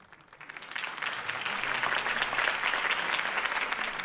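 Crowd applause from a Batman video game rally for Harvey Dent swells from quiet to a dense, steady roar of clapping that holds for several seconds.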